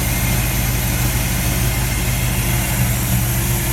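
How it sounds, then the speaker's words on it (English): A 1964 Chevy Impala Super Sport with a 283 V8 and four-barrel carburetor idles steadily nearby, a constant low rumble with no talking. "we have a great running 283 engine, 4-barrel carburetor, power steering, power brakes"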